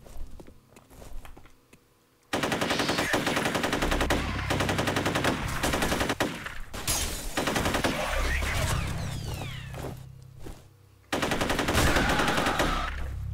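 Gunfire in the video game F.E.A.R., with a shotgun enemy among the shooters: dense, loud bursts of rapid shots packed together, breaking off briefly and then resuming, with no voices over it.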